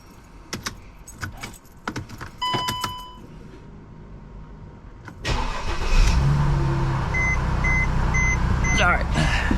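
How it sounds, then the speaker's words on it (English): A Mercedes C300 W204 car: keys jangle and clink in several quick bursts, then the engine cranks and fires into a steady close idle, with chimes beeping faintly over it. "Let me see if this thing starts without a check engine light"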